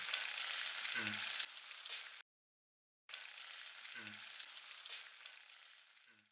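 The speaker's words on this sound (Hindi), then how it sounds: "डोनट्स अब फ्राई हो चुके हैं, अब इन्हें निकालेंगे।" Eggless donuts deep-frying in hot oil give a steady, close bubbling sizzle, broken by a short silent gap, with a few faint low knocks as they are handled in the pan.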